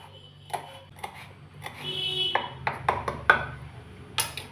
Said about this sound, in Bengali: কাঁচা লঙ্কাটা আমি ছোট ছোট করে কুচি করে নেব।